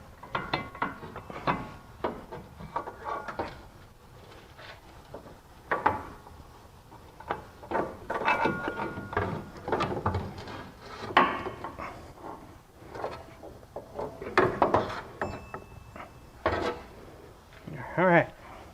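Front axle being worked loose and pulled from a 2005 Chevrolet Tahoe, with scattered metallic knocks, clunks and scraping at close range in an irregular, busy rhythm, continuing steadily without voices.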